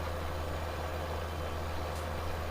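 Lamborghini tractor of about 270 horsepower in the Farming Simulator 17 farming game, a steady low engine drone holding constant throughout, even and unbroken with no voices.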